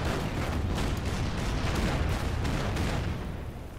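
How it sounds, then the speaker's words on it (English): Artillery shells pound an enemy tank in the World War II strategy game Order of Battle, set in the Marshall Islands: a dense, continuous roar of rumbling blasts and crackling impacts that stays loud and steady, then eases slightly near the end. "Artillery on the tank."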